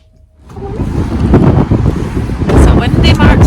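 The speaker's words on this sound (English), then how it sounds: "It's a windy March Saturday." Strong gusts of wind buffet the microphone, rising quickly to a loud, roaring rumble that continues.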